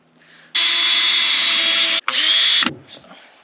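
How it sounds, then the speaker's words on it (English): A power drill bores out a slightly larger hole during an electrical upgrade, whining loudly and close in one long burst and then a shorter second burst before it stops. "So drilled out a slightly larger hole"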